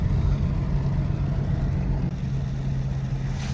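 A Ford Mustang's 3.7 V6 with an SCT X4 tune pulls hard under steady, loud engine drone, the note holding through the run with a slight dip as it shifts gears.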